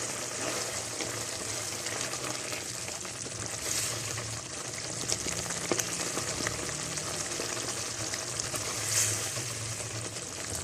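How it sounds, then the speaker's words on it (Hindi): Minced meat keema sizzles and fries in a clay pot with ajwain, black pepper and garam masala, a steady close crackling hiss with faint stirring scrapes throughout, no talking. "कीमा अच्छे से भुन रहा है हमारा।"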